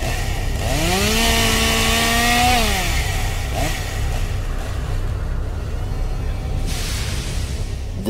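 A chainsaw-wielding maniac at a haunted attraction in Lee, New Hampshire: a chainsaw engine revs up, holds a loud rising whine, then drops to a rough idle, with dense noise throughout.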